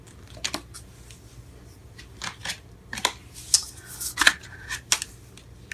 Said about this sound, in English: Oh man, can't shuffle these.